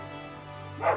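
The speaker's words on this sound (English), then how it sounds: "Oh, now the other dogs are barking." A short, single dog bark in Final Fantasy XIV rings out near the end over a steady electronic hum, fairly faint and somewhat distant.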